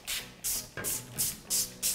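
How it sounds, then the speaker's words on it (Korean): An oil spray can hisses onto fish laid skin-side down on a paper-lined oven pan, six short bursts in a steady rhythm, close and clear. "이렇게 기름 스프레이를 이용해서"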